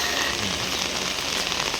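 Steady rain pours down outdoors in a hot, humid tropical setting in the Philippines, a dense continuous hiss with no pauses and no voices over it.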